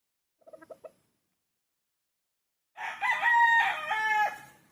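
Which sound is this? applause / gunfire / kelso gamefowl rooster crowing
kelso gamefowl rooster crowing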